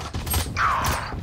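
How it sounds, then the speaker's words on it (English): A weapon being reloaded in the video game Valorant: a quick sequence of close mechanical clicks and a metallic slide, with a short bright clack in the middle, heard alone. "Reloading."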